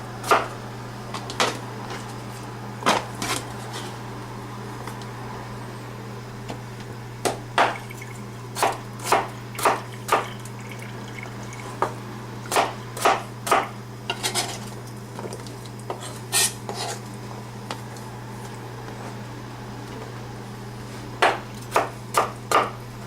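Potatoes being chopped into rough cubes with a knife on a chopping board in a home kitchen, a series of sharp, irregular knife knocks close by, with a steady low hum behind and no talking.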